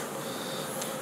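Dense, steady buzzing of many honeybees around apiary hives in spring, close and continuous, with no voices.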